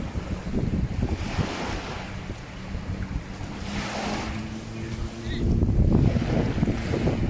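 Sea waves washing onto Jomtien beach in Pattaya, a continuous close surf rush with wind buffeting the microphone and a swell of water growing louder toward the end, no talking.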